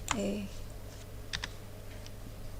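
Keystrokes on a computer keyboard while drawing shapes in CorelDraw, a few faint separate clicks scattered over a low steady background hum, with a brief tonal blip at the start.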